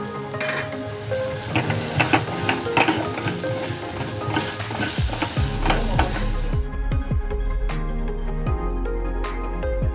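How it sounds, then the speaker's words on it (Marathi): Loud, steady sizzle of masala and garam masala frying in hot oil as a tempering, with stirring and scraping of a utensil against the pan, especially toward the end. "बघा फोडणी भाजली आता मी फागला घालते त्याच्यात आणि परतते"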